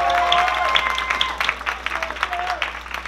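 A crowd applauding at an African naming ceremony during a Kwanzaa celebration, lively clapping with scattered cheers and voices, thinning into separate claps toward the end.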